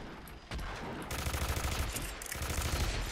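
Rapid gunfire bursts from a video game shooter, loud and dense, with a short sharp burst at the start and then sustained overlapping shots for several seconds.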